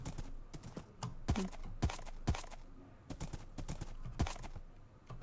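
Minecraft horse hooves clip-clop in an uneven, quick rhythm, like a horse trotting, with sharp taps standing out clearly against a quiet background.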